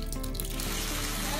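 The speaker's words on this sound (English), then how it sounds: "This is the water that's coming out of my tap." Water runs from a home tap, a steady close hiss of flow that holds evenly throughout with no talk over it.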